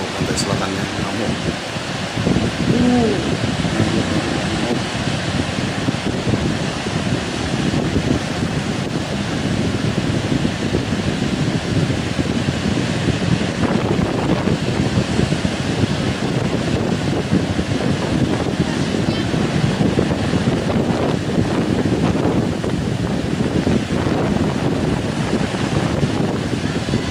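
Big waves crash and surge without letup along the south coast, loud and near, where a fishing boat has run aground. The roar of the surf is mixed with wind buffeting the microphone and a few voices underneath.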